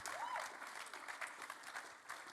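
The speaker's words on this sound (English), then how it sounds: "let's give them a round of applause" An audience at a Q&A event claps together in a soft, continuous patter of applause. It sounds faint and somewhat distant and lasts a couple of seconds.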